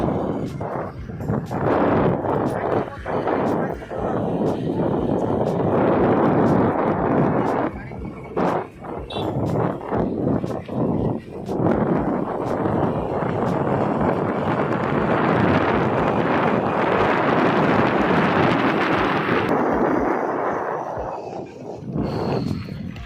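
Wind buffets a microphone on a moving motorbike carrying a parent and son toward a hilltop temple, a loud rushing roar that surges and dips, with a low engine hum under it.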